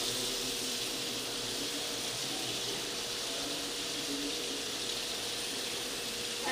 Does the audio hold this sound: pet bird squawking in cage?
no